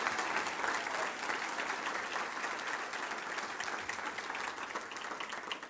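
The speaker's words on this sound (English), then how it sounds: "Let's give them a round of applause." A luncheon audience at a Little Rock Touchdown Club meeting breaks into steady applause, a dense wash of clapping that holds evenly for several seconds without any voices over it.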